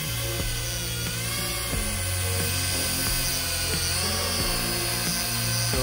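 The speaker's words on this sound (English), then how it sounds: "So this is a stable drone." An SJRC S30W dual GPS camera drone hovers close by, its motors giving a steady, loud high-pitched whine and buzz that holds constant with slight pitch wavering throughout.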